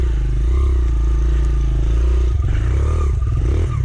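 Honda CRF100F dirt bike ridden off-road on unfamiliar trail, the small four-stroke engine droning loud and close with throttle rises and falls, plus rattling chassis clatter over rough ground.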